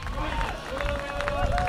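A crowd cheers and claps for the winner of the 2011 Coolangatta Gold Ironman race as he slows down, a lively babble under a commentator talking over it.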